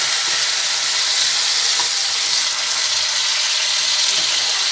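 A peeled, chopped tomato hits hot oil in a pan for a potato gnocchi sauce, giving a loud, even, continuous sizzle and hiss that fills the whole stretch without pause.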